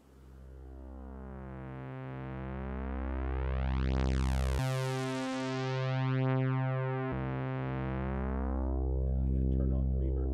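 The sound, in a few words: single synthesizer oscillator tone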